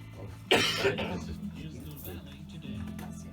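A single sharp cough bursts out near the start in a recording studio, followed by a softer trailing sound over a low background hum.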